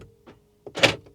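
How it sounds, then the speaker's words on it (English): Mercedes-AMG G63 door locks actuating from inside the cabin: a faint click, then a sharp, loud mechanical clack like a shot, brief and alone. "the cool mechanical sounds of the G-Wagen continue on the inside with the door lock and unlock sound"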